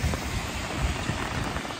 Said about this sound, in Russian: Вот обожаю, короче, под дождь что-нибудь снимать.